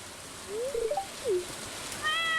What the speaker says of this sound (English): we're also adopting the cat, so yes. this is our cat cutscene.